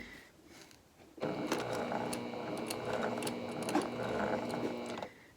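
A sewing machine stitches through thick foam while assembling a cosmetic tote, running steadily and loudly for about four seconds with a rapid mechanical clatter, then stopping abruptly.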